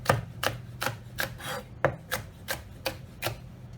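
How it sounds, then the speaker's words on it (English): A knife chops capsicum into pieces on a board, about ten crisp, evenly spaced knocks close by, with no talk. "with our capsicum, we just want to chop it up into pieces like so"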